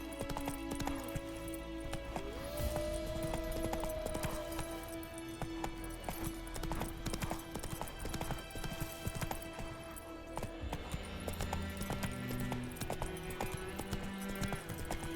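Horse hooves clip-clopping steadily in The Witcher video game, a fast regular gallop close up over game music and ambience, with a brief whinny and light metallic clinks.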